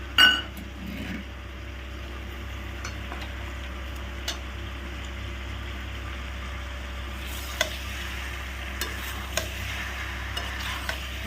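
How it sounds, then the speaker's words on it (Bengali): Pasta with tomatoes is stirred in a pan over a medium flame, with soft scraping and a faint sizzle under a steady background hum and occasional light ticks of the spoon. "সুন্দর করে মিডিয়াম ফ্লেমে এটা নাড়তে থাকে তোমরা আস্তে আস্তে করে পুরো জিনিসটা লোট পালট করে"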